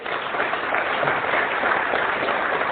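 Loud, sustained applause from a large audience at a Hindi-language motivational talk, a dense wash of clapping filling the whole stretch at an even level, with no voices above it.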